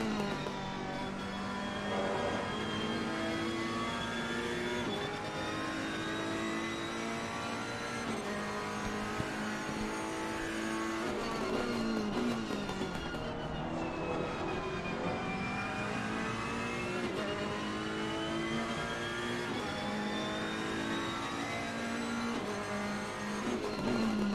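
Race cars in a sim racing video game endurance event at Zolder, a Ferrari and an Aston Martin, engines droning and revving steadily with shifting pitch as the cars close up, loud and continuous.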